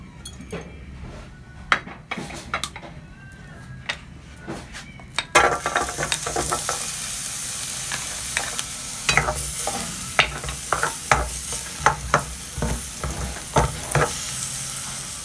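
Onion, garlic and beef cubes sautéing in oil in a pan, a loud close sizzle that swells after a few seconds, punctuated by repeated metal spatula scrapes and clinks against the pan.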